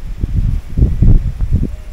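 Strong wind during rain at Korigad Fort near Lonavala buffets close to the microphone in heavy, uneven low rumbling gusts, with a faint rustle and no voices.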